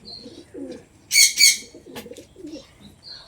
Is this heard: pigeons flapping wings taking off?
yes